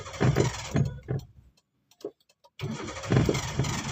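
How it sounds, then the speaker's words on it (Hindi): A car's engine is started during a driving lesson, with rough mid-range bursts of engine noise before and after a short quiet gap. "क्लच दबा के इंजन ऑन करो।"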